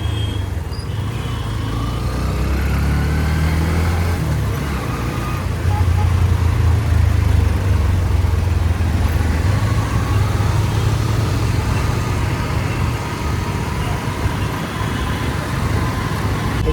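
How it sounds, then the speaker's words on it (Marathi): Road traffic in Pune near Saras Baug is heard from a moving motorbike: a loud, steady engine rumble with passing vehicles and a continuous road roar. "मित्रांनो ट्रॅफिक बघा भाई निश्चित ट्रॅफिक आहे आज"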